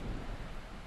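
Rain falls outdoors in the Flinders Ranges as a steady, dense hiss of drops with a low rumble underneath, continuous and fairly close for the full second, with no voices.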